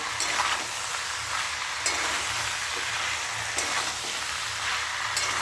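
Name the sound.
food sautéing and sizzling in a pan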